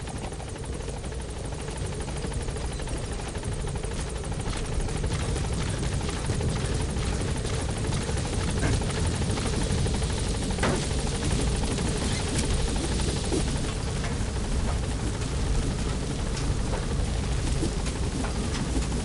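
Helicopter in the video game Metal Gear Solid 5 hovering near a landing zone, its dense rotor roar steady and loud throughout with faint rumble beneath, no voices.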